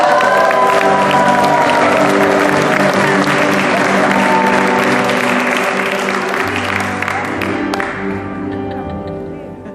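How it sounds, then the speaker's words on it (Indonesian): Sustained applause from an audience at a PERKI Europe gathering in Hamburg, loud and dense for most of the stretch, thinning slightly toward the end with a low musical hum underneath. "mari kita berikan tepuk tangan yang lebih meriah untuk Pergi Belgia"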